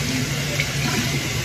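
Tap water runs steadily into a bathroom sink during face washing, a continuous close splashing rush with no talking over it.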